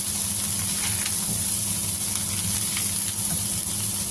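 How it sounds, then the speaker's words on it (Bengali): Bitter gourd and fish roe frying together in a pan, giving a steady, close sizzle with a constant hiss and light bubbling that runs evenly throughout, with no talking. "দেখতেই পাচ্ছেন করলা ভাজা হয়ে গিয়েছে। ডিম করলা দুটাই সুন্দর ভাজা ঝরঝরে হয়ে গিয়েছে।"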